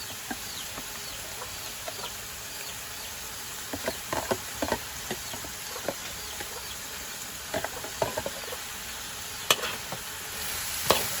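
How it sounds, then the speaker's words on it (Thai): Shrimp stir-fried with stink beans and minced pork in a pan, giving a steady crackling sizzle with scattered sharp scrapes and clicks of stirring, over a constant hiss like rain outside, with no talking. "แล้วก็ผัดกุ้งให้สุกนะครับ"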